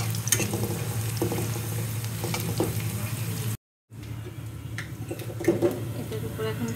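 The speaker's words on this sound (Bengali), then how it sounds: "কাঁঠালের তরকারিটা আমি একটু বাগার দেবো, তেল আর পেঁয়াজ" Onions frying in oil for a jackfruit curry, giving a continuous busy sizzle with clatter from stirring. A brief silent gap falls midway before the frying resumes.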